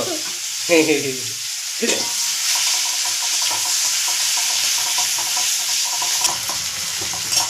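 Chopped onions fry in oil with nigella seeds and dried chili, a constant close sizzle and crackle; a voice speaks briefly near the start, then the frying carries on alone.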